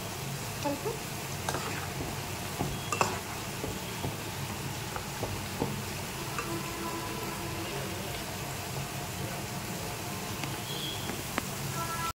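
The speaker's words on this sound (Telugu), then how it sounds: "క్రిస్పీగా కావాలి ఆనియన్స్. ఇట్లా సౌండ్ వస్తుంది చూసి." Sliced onions fry until crispy in hot oil for biryani, giving a steady, close sizzle with scattered crackles and pops that runs unbroken throughout.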